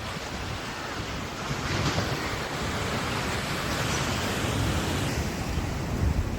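Sea waves roll onto Digha beach at high tide, a steady broadband surf wash with wind buffeting the microphone, continuous and fairly loud with swells building slightly around two seconds in.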